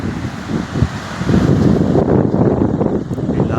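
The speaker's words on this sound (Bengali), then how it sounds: "প্রচুর হাওয়া এখানে" Strong wind buffets the microphone in a steady roar at Indira Point lighthouse on Great Nicobar, loud and close with gusts swelling midway and no voices.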